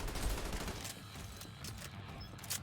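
Gunfire in The Division 2 sounds as a dense, fairly quiet spread of shots mixed with battlefield noise, with several sharper cracks standing out over a continuous rumble.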